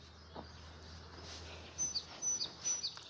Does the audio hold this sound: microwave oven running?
no